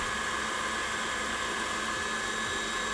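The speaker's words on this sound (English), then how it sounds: "Obviously, you can do this with a hand mixer, but I love my stand mixer." A stand mixer whisks cream cheese for a keto tiramisu cake, giving a steady, loud motor whine with a constant high-pitched hum that runs unbroken and close, with no talking.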